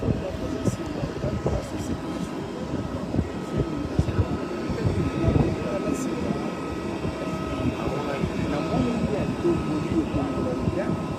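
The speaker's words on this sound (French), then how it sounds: "Le président de la République, Félix Antoine Tshisekedi Tshilombo, vient d'atterrir ici tout de suite" Presidential airplane arriving at Mbuji-Mayi airport, a broad continuous engine roar and rumble steady throughout, with crowd noise and scattered voices mixed in around it.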